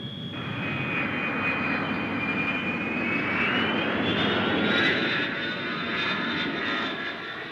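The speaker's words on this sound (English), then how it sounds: "A reliable jet fighter checked out with military precision every time it left the ground." A CF-100 jet fighter's engine roars steadily and loudly throughout, with a high whine that slowly rises in pitch over a broad rushing drone.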